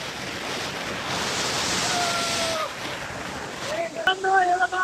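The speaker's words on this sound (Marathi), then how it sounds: "बघू शकता कसा मस्त वॉटरफॉल आहे" A monsoon waterfall at Lonavala pours as a steady, broad rushing roar that fills the whole clip, with faint talk and a few higher voice-like sounds surfacing near the end.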